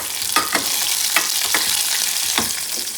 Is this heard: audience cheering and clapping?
no